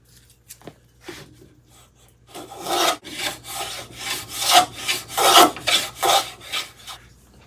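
A Stanley iron plane shaving wood in a run of about eight rasping strokes, close and fairly loud, after a few faint scrapes; the shaving clogs and blocks the cutter.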